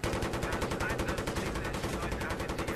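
Dense gunfire from the Battlefield video game, a loud, continuous rattle of rapid shots without a break.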